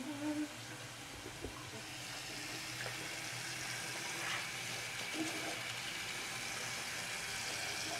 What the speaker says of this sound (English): So I pretty much have to rinse my sink out every time I wash my teeth